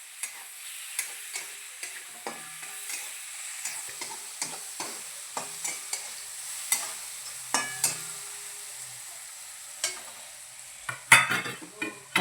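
A spoon stirs vegetables with turmeric in a pan for potato and pea poha, giving repeated sharp scraping clicks and taps at an irregular rhythm over a faint sizzle, close and clear with no talk.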